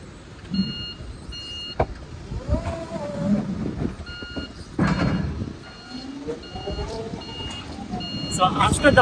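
A small factory vehicle carrying large interactive panels gives steady, evenly spaced reversing beeps under engine rumble and clattering, while people talk nearby.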